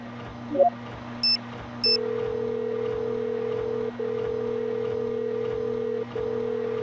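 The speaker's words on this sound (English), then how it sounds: "Time to phone Alex again." Telephone dialing in the Nancy Drew Sea of Darkness adventure game: a short button blip, two quick tone beeps, then a steady ringing tone that repeats in long pulses broken by brief gaps, over a low ambient hum.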